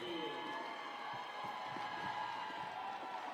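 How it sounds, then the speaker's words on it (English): A volleyball crowd cheers a substitution during a men's semi-final match, a steady wash of arena cheering and clapping at an even level throughout, heard from a distance with a commentator talking over it. "Crowd's on their feet for that substitution."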